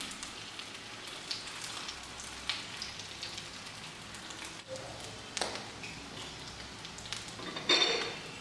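Egg and potato kebabs fry in hot oil, giving a steady, fairly faint rain-like crackle and sizzle throughout, with a brief louder burst near the end.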